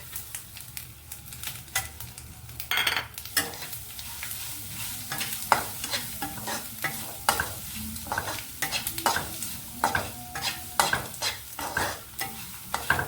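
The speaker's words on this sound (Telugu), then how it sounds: "ఈ పచ్చి కొబ్బరి ఒక్కసారి వేగించుకోవాలండి దీన్ని తిరగమూతలో" Fresh grated coconut roasting in a small tempering pan, with rapid, repeated stirring scrapes and clicks of a spoon over a steady frying sizzle, close and fairly loud.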